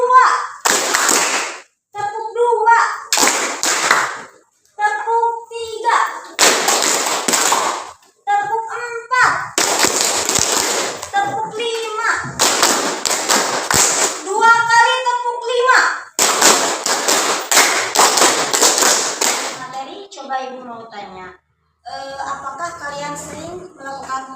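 Children clap hands in a rhythmic counted pattern during a classroom lesson, with bursts of sharp claps alternating with chanted speech from the group and a teacher's voice.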